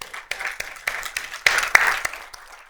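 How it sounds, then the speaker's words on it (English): A small audience at an author talk claps for a guest who stood up, a brief, scattered round of handclaps, uneven and fairly close, fading out within a few seconds. "We're going to clap for you because you made it from Winslow."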